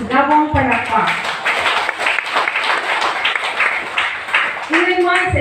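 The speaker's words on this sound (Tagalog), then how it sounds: "ato siyang matagal masigabong palakpak" Long, sustained applause from a church congregation at a New Year's Eve service, dense steady clapping throughout, with a voice talking over its start and end.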